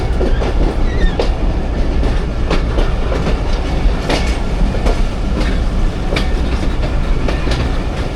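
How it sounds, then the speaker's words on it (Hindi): Jaffar Express passenger train rolling slowly between Attock and Rawalpindi, with steady rhythmic clickety-clack of wheels over rail joints, loud and continuous from on board, with faint squeals. "तो ये तो मेरे ख्याल से 15 की स्पीड से भी स्लो हो गई है ट्रेन।"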